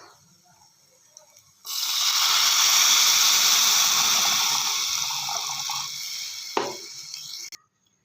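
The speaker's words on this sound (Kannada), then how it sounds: "ಇವಾಗ ಹುಣಸೆ ಹಣ್ಣಿನ ರಸ ಹಾಕೊಳ್ಳೋಣ" Tamarind juice pours into a cooking pot as a loud, steady gushing splash that starts abruptly, holds for several seconds with a small knock near the end, then cuts off, close to the microphone.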